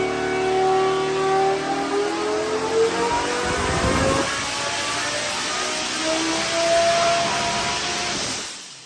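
A 5.2-litre even-fire engine revs hard and close, its pitch rising through the middle of the run with layered harmonic tones before cutting off abruptly near the end; no talk.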